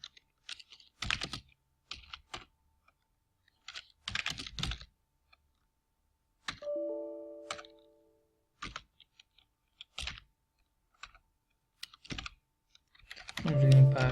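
Typing on a computer keyboard while working in a terminal: short, soft bursts of key clicks spread across the stretch, separated by quiet gaps, with a brief tonal blip near the middle and a louder rustle at the end.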